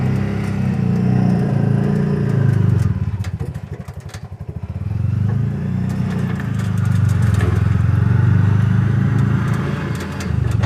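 A Bajaj auto rickshaw engine runs steadily and close by with a rough, chugging note. It briefly drops in level partway through, as if easing off for a smooth gear change, then picks back up.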